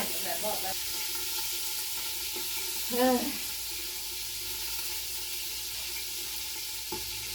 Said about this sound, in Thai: ทอดไปอ่อนๆนะทอดไปแรงไม่ได้